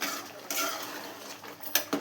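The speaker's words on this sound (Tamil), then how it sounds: "நம்ம அப்பப்போ அடிப்பிடிக்காமல் கொஞ்சம் கிளறி விட்டுக்கலாங்க." Chicken gravy stirred in a pot, a spoon scraping and clinking against the metal in a few distinct knocks and scrapes, close and clear with no talking.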